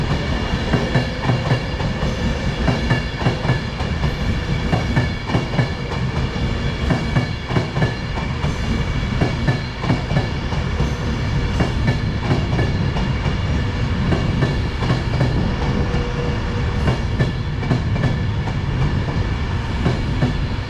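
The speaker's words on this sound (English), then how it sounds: "here's the delayed 12:38 Avanti West Coast service from Glasgow Central to London Euston." An Avanti West Coast train, a Glasgow Central to London Euston service, arrives at Lancaster station with a loud, steady rolling roar and wheel clatter. No voices are heard over it.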